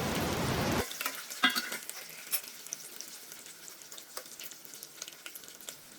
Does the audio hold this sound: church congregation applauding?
no